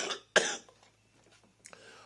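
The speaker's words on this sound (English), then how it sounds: "my eyes are watering from the coughing" A single sharp, harsh cough, with a smaller cough and throat noise after it. It sounds close and fairly loud over quiet background hum.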